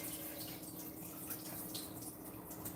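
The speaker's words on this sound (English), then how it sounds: "So move the water away. You wanna drain the rice." Water is poured off washed rice while making Haitian rice with shrimp and coconut milk, giving a steady splashing trickle that runs without a break throughout.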